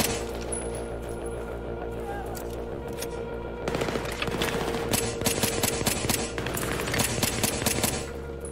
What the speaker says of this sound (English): Pistol has a pretty decent accuracy, you just gotta fire numerous times.